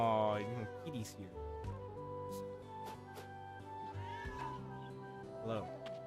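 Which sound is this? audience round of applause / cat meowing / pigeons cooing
cat meowing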